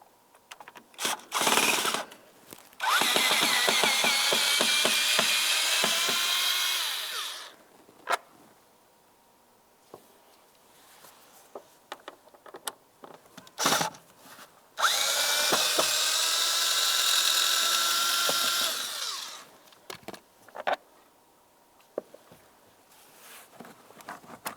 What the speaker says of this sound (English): To remove the trim panel, you'll find two Phillips head screws holding it in place.